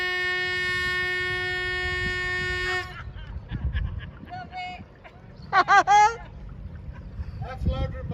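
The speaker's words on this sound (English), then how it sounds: "That's louder than most horns." A loud, steady narrowboat horn blast sounds close by on a canal for about three seconds, then people talk over faint background noise.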